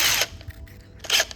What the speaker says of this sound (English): tighten the chuck nice and tight